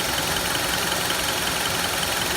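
The radiator cooling fan on a 2004 Honda CR-V with an overheating problem runs with a loud, steady broadband whoosh that stays even for the whole short stretch.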